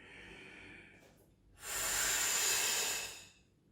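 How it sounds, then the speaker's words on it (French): A deep breath drawn in and then let out through the mouth during a breathing exercise: a quiet airy inhale, a pause, then a louder, long, breathy exhale that lasts more than a second before fading. "Inspire. Expire par la bouche."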